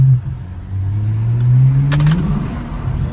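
A Porsche sports car accelerates hard at night, its engine note climbing steadily in a long rising pull, loud and close from inside the car, with a brief rattle partway through.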